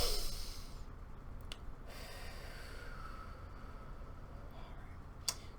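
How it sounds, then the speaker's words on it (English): A person draws a single deep breath, a loud close inhale at the very start that trails off into quiet room tone, with a couple of faint clicks afterward. "I'm going to take a deep breath"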